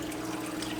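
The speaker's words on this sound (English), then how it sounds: "The drain, it's got water in it. It's draining." Water drains through a vertical hydroponic grow wall system, a soft continuous trickle and gurgle with a faint steady hum underneath, close and alone without talk.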